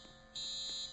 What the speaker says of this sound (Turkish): Ee, yangın alarmı.